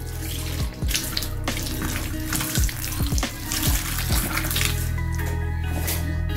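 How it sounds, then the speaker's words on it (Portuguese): Running tap water splashes onto a cutting board being rinsed clean of bleach in a home kitchen sink, a steady close rush of water broken by irregular clatters and splashes as the board is moved. "água corrente tira qualquer cheiro"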